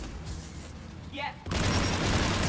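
Sci-fi gunfire from the video game Mass Effect during a quarian and geth conflict: a sharp shot, then a sudden loud sustained barrage of rapid fire filling the rest of the moment, close and intense.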